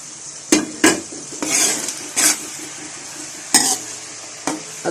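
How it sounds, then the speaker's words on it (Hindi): Ginger-garlic paste and onions sizzle in oil in a kadhai while a metal spoon stirs them, giving irregular sharp clanks and scrapes against the pan over a constant low frying hiss, with no talking. "अदरक लहसुन और प्याज को थोड़ी देर के लिए ब्राउन होने तक फ्राई करूंगी।"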